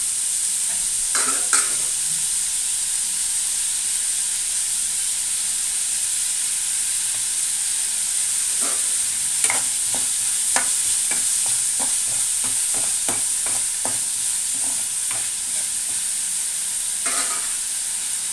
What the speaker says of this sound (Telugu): ఉల్లిపాయలు వేగాయి కదండి